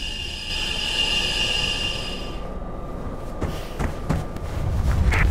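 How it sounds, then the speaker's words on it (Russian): Trains rumble through a tunnel in the video game Mirror's Edge, a continuous low roar with a high whine that drops away, followed by a few sharp clanks and a swelling rumble at the end. "Копы тормозят все поезда в туннеле."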